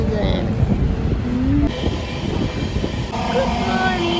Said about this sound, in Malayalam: പുതിയ ട്രെയിനാണ് തോന്നുന്നത്.